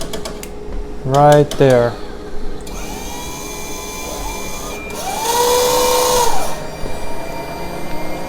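A Rotimatic automatic roti-making machine pushes and flattens dough with a close mechanical whir and rising motor hum, following a brief spoken phrase.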